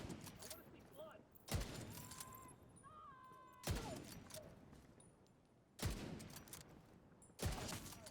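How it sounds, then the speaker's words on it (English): Bursts of gunfire in a shooting video game, four sharp loud volleys spaced a couple of seconds apart over a steady low game backdrop with faint tonal effects. "Someone's shooting from over here."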